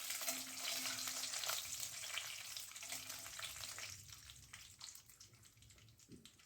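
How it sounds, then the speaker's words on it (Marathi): Cashew pieces fry in hot oil for a green pea pulao, giving a close, steady sizzle with light stirring scrapes that slowly fade and thin out toward the end. "तेल गरम झालं की हे काजूचे तुकडे घालायचे आणि हे पण आपल्याला एखाद्या मिनिटांसाठी थोडा रंग बदलेपर्यंत परतून घ्यायचे तेलामध्ये।"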